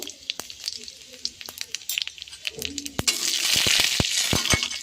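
Dried red chillies, panch phoron and whole cumin fry in hot oil, with sharp scattered pops and crackles that build into a dense, close sizzle with no talk.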